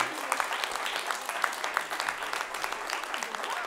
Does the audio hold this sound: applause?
yes